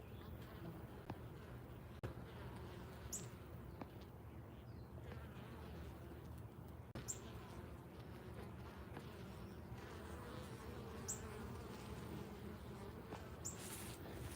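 Bees buzzing around a beehive outdoors, a steady low hum of many insects continuing throughout at moderate level, with faint brief chirps and rustles now and then.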